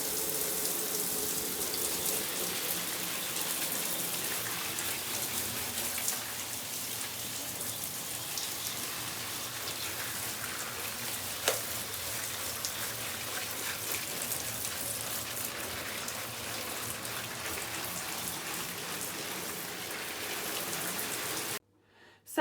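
Shower water pours steadily onto a houseplant being rinsed to wash off spider mites, a continuous dense hiss and patter like heavy rain, unbroken for about twenty seconds before cutting off.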